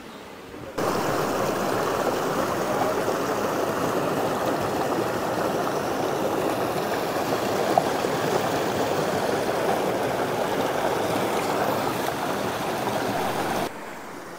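A river rushes near the Santa Clara waterfall in a loud, steady, unbroken roar of flowing water that holds evenly throughout with nothing else heard over it.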